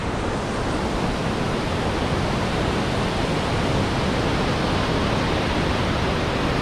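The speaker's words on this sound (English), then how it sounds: "This incredible waterfalls." A steady, dense roar of rushing water fills the air without pause, loud and close, a large waterfall in Cateel, Davao, Mindanao pouring continuously.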